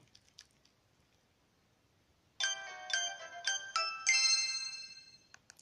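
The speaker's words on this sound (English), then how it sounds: "It's a doorbell! Don't open it!" Doorbell chime in the Pokémon Moon video game: a bright, electronic sequence of rising ringing notes that starts suddenly after near silence and rings on to the end, clear and fairly loud.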